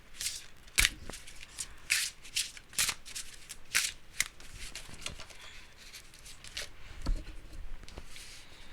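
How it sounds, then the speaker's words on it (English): Heavy, stiff oracle cards being shuffled by hand in repeated bursts of riffling and slapping, close and fairly quiet, with short pauses between passes. "my shuffle skills aren't great today"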